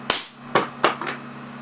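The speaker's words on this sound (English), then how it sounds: "Pressure for this test shot will be 400 PSI and fire." An air cannon firing a test shot at 400 PSI with solenoid valve control: a sharp loud bang, then a few quicker cracks and thumps that fade out over a low steady hum.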